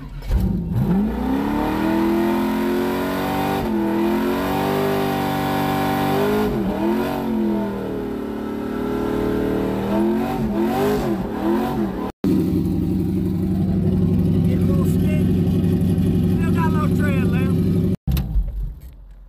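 A car doing burnouts revs hard in repeated rising and falling bursts, loud and close, then holds a sustained high roar with tire noise, while people shout over it.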